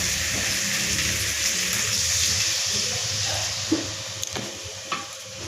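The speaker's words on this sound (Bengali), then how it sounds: "কচু আলুর তো এখন জল দিয়ে দেবো" Water pours into a pot of taro and potato curry, a steady broadband splash and gurgle running loud and close for several seconds, ending in a few small knocks.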